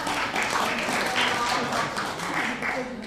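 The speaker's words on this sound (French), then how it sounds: "Généralement, c'est là que les gens, ils applaudissent." An audience applauding at a mentalist magician's stage show, broad and continuous clapping held steady at moderate loudness over about three seconds, with some voices mixed in.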